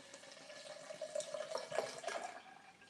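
Bottled water pours steadily into a jar of soaked sea moss, a continuous splashing trickle heard close and alone, with no talking.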